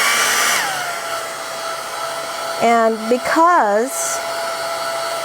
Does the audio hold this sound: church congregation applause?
no